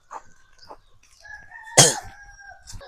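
Native country chickens on a farm, a few soft clucks, then a loud close rooster crow rings out and trails off, followed by another brief call.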